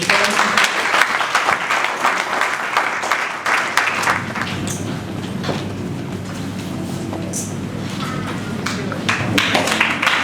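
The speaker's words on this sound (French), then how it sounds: "On acclame encore une fois de plus." Audience clapping at a police national music holiday camp closing ceremony in Burkina Faso, dense sustained applause with sharp individual claps that thins out midway and then swells again.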